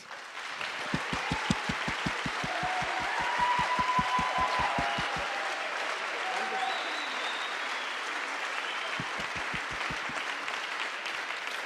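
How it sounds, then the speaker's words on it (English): Audience applause for choir members at a music concert, broad clapping throughout with a few sharp nearby claps in a regular rhythm early on and again near the end. "A round of applause, please."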